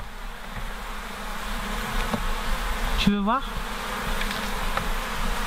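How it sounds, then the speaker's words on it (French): A dense, continuous buzz of many honeybees around a hive entrance fills the air nearby, with a short spoken question breaking in midway. "les abeilles qu'on a secouées en fait tout à l'heure, elles sont en train de rentrer dans notre ruche"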